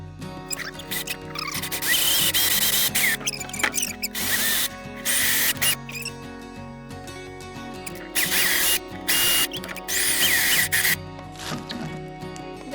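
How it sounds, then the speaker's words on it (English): A power drill bores pilot holes in a foam duck taxidermy mount form, giving several loud whirring bursts of drilling separated by short pauses, close up. "So I'm doing another pilot hole right there."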